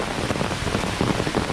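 Steady rain pours on the Appalachian Trail during a 2020 thru-hike, a dense, even hiss of drops hitting surfaces close by, with no voices.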